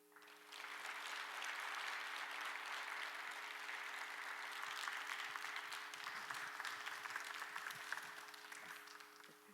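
A church congregation applauding at a Sunday worship service at Gocheok Church, a sustained, even wash of many hands clapping heard from a distance over a steady low hum.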